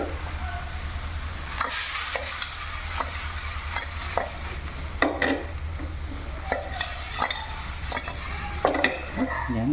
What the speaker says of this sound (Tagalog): Turuan ko kayo paano magpatalon ng niluluto.